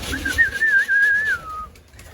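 A single drawn-out whistling pigeon call rises and wavers before trailing off, close and fairly loud, with faint background noise.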